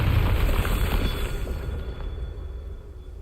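A Confringo fire spell bursts in Hogwarts Legacy on PS5: a heavy, booming explosion with a deep rumble that fades away over about three seconds.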